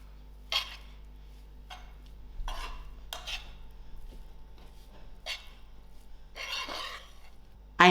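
Spring onions being mixed into a cooled cauliflower stuffing in a bowl, heard as a few separate scraping, clinking stirs with quiet gaps, fairly faint and without talk.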